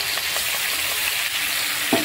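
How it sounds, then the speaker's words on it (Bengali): Ground spice paste fries with tomatoes that have cooked down until fully melted. A dense, close sizzle runs without a break, and a stirring scrape comes near the end. "তো টমেটোটা ভাজতে ভাজতে পুরো গলে গেছে। এবার আমি বেটে রাখা মশলাটা দিয়ে দিচ্ছি।"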